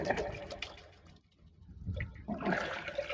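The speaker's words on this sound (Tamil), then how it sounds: "20 லிட்டர் பக்கெட்டில் தண்ணி இருக்குது, அதில் மிக்ஸ் பண்ண போகிறேன்" Fish amino acid being stirred into a 20-litre bucket of water, a sloshing, swirling churn of liquid heard close up, with brief faint voices in the background.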